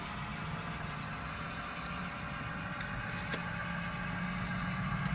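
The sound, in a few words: motorcycles passing outside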